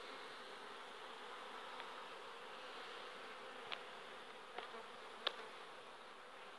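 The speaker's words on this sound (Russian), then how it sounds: "Пчелки трудятся." Honeybees buzz around a hive on a sunny summer evening, a faint, steady hum of many insects with a few brief ticks and clicks, no voices.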